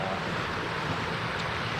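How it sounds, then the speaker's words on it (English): Rushing water at Brandywine Falls, a waterfall in Cuyahoga Valley National Park, Ohio: a steady broadband roar of falling water heard from nearby, constant and unbroken, with no voices. "I guess that's considered a waterfall right there."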